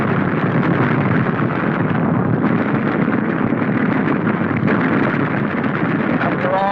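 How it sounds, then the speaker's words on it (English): A rocket-armed twin-engine German fighter explodes during a 1943 wartime air combat film of a bombing raid on Emden, heard as a dense, roaring, sustained rumble of noise that stays loud throughout. "Watch this explosion. That was a rocketeer."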